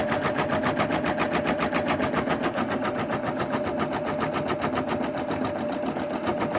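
Computerized embroidery machine stitching a keychain design, its needle hammering in a fast, steady rapid-fire rhythm with a constant mechanical hum underneath, close and continuous.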